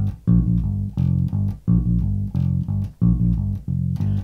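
A bass guitar plays the last two beats of a riff, including an F and a G, looped several times in a steady rhythm of short plucked notes, clear and alone.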